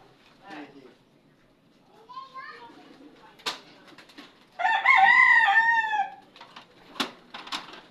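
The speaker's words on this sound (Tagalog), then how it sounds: "Mga manok ni Boss Iking" A rooster crows loudly in the middle, with scattered clucks and children's voices chattering around it.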